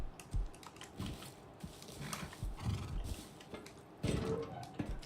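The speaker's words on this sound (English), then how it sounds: "Who put all these horses in my house?" Horses in a video game neigh and whinny among clopping hooves, with keyboard typing clattering throughout, fairly quiet and close, with no talking.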